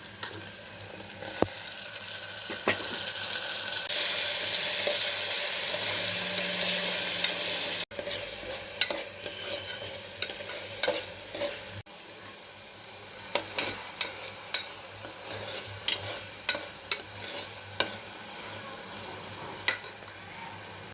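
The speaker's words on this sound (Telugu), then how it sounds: "ఉల్లిపాయలు వేగాక టమాటాస్ వేయాలి" Tomatoes fry with onions in hot oil, a steady close sizzle that swells into a louder hiss for a few seconds, then settles under frequent sharp clicks and scrapes of stirring.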